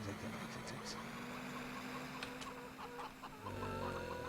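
Chickens in the video game Farming Simulator 2013 cluck and squawk in short bursts over a steady engine-like hum, with a constant low tone running underneath.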